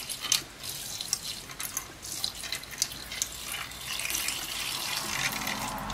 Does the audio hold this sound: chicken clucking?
no